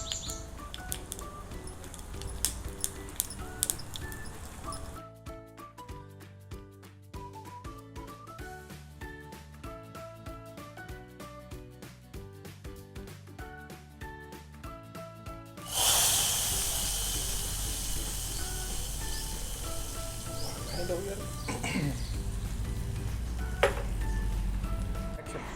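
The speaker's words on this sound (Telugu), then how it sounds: "ఆవాలు చిట్పట్లాడిపోయింది" Mustard seeds splutter and pop in hot coconut oil for tempering, giving rapid crackling and hissing that grows into a loud, steady sizzle over the second half, with background music.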